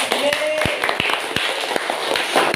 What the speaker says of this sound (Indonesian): kita tepuk tangan dulu untuk kita bersama